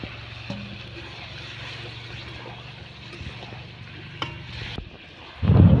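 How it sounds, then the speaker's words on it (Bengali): Chicken curry with potatoes sizzling in a pan as spice water is poured in and stirred, a steady close hiss with scraping spatula strokes and a sharper burst of bubbling at the end. "এখন আমি একটু জল দিয়ে আবার ভালো করে কষাবো চারদিক দিয়ে দিচ্ছি মশলার জল দিয়ে দিচ্ছি"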